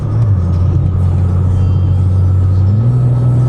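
A single-turbo BMW M4 cruises along, its engine a loud, steady low drone and rumble from inside the car, with a slight rise in pitch near the end.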